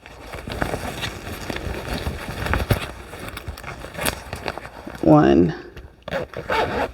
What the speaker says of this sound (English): It actually has a double-sided zipper